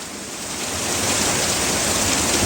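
Heavy rain pours steadily as a dense, continuous hiss that swells slightly louder after the first second, with no voices.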